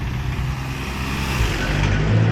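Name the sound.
van driving past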